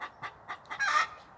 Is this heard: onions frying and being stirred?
no